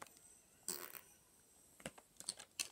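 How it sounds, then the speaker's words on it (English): Short, faint fart noises break out in a couple of bursts during a casual farting contest, close by in a quiet room with no talking. "let's do a farting contest"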